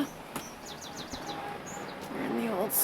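Birds sing outdoors near an old schoolhouse at Three Valley Gap. Short, high chirps and trills repeat at a moderate distance over a soft ambient background, with some faint low sound underneath.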